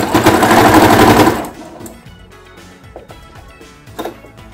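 A sewing machine stitches loudly and rapidly through bulky fabric for about a second and a half, then stops, leaving soft handling clicks and rustles.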